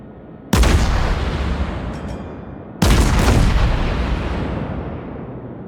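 Naval guns fire two heavy salvos at a Colorado battleship in World of Warships, each a loud booming blast with a long rumbling tail that fades over several seconds, with no talk.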